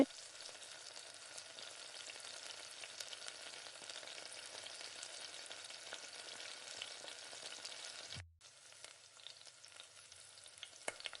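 Paneer pieces roasting in a steel kadai give a steady, close frying sizzle with light crackle, dipping briefly near the end before resuming.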